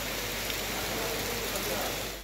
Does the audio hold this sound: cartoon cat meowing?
no